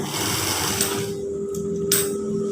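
Sewing machine stitching a sarong with a wrap-over front and hook fastening, a steady continuous mechanical whir running loud and close throughout with faint small clicks near the end.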